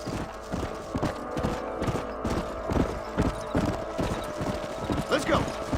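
Horses trot in steady, rhythmic clip-clop hoofbeats in the Red Dead Redemption video game, close and prominent, and a voice speaks over the hoofbeats.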